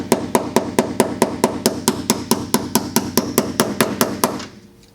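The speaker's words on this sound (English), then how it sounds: "Then you can get a deep socket and you can just gently tap it." A deep socket taps a rigid subframe collar into its bushing on a Genesis Coupe, a steady run of about eighteen sharp metallic knocks, close and evenly spaced, ending abruptly.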